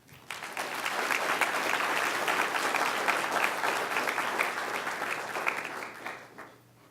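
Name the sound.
audience applause for student members at board meeting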